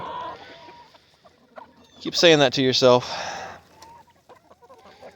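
Chickens cluck loudly in a short, close burst of about a second, with someone talking before and after it.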